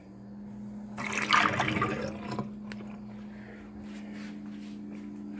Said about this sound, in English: now I'm going to pour off this part of the water right here